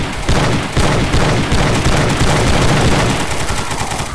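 In the survival game DayZ, loud close gunfire bursts out in rapid repeated shots, forming a dense, continuous volley that fills the whole stretch with little pause.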